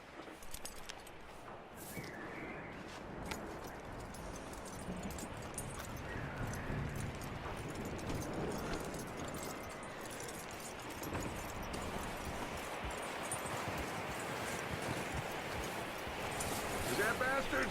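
Horse hooves clip-clop in Red Dead Redemption 2, a quiet irregular trotting rhythm under game ambience and character dialogue.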